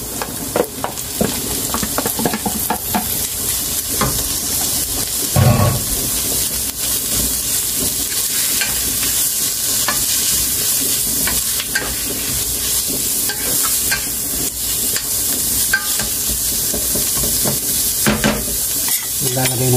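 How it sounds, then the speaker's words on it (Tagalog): Chicken pieces sizzle loudly in a pan with garlic for sopas, a constant bright frying hiss broken by occasional stirring scrapes and pops. "tapos lagay na natin yung chicken natin"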